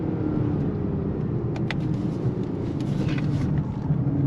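A 2023 Lexus LS 500 F Sport large luxury sedan accelerates under throttle, heard as a steady, loud low engine drone with broad road and wind rumble throughout.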